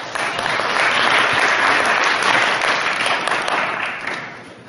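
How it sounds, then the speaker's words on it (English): Loud, sustained audience applause in a university hall during a student pageant, a thick wash of many people clapping together that swells and then slowly tapers off toward the end. "give yourselves a round of applause for that"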